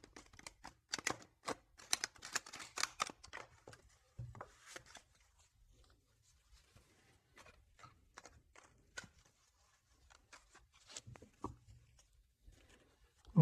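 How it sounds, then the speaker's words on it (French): Tarot cards are shuffled by hand in a run of quick, sharp flutters and slaps, dense at the start, then sparser and quieter with short pauses between bursts. "Je vais faire un petit peu de bruit pour bien mélanger les cartes"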